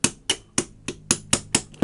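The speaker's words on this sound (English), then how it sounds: "Keep giving it some taps. Let the weight of the hammer do the work." Hammer taps knocking loose a blowback part on a G&G GR15 Raider airsoft rifle: eight sharp, evenly spaced metallic strikes about a quarter second apart, close and clear with no talking.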